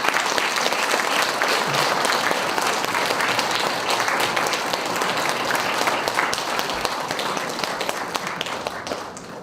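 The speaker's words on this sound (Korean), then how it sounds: "뜨거운 박수로 앞으로 모시겠습니다." Lecture audience giving loud, sustained applause to welcome a speaker to the stage, a dense, continuous roar of clapping close by that tapers slightly toward the end.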